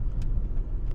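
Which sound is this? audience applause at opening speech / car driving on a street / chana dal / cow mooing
car driving on a street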